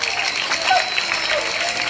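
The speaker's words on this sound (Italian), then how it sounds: "fate vedere, applaudete un poco" Audience at a live show applauding together, a steady dense wash of clapping that runs through without a break, with faint voices mixed in.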